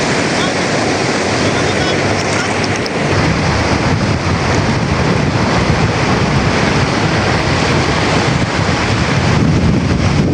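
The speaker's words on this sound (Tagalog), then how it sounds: "Hanggang doon sa kabilang dulo po ang bagsak po ng tubig" A broad, constant roar of falling water at the Lisap River runs loud and unbroken throughout, a dense rushing wash with wind buffeting the microphone.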